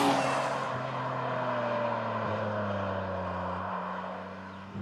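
Mazda MX5 fitted with a Jaguar V6 engine, a smooth sustained engine drone with a slowly shifting pitch, fairly quiet and steady, heard on its own.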